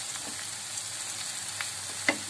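Onions fry in a pan for İmam Bayıldı with a steady, close sizzle, broken by a few faint clicks of stirring and one sharper tap near the end.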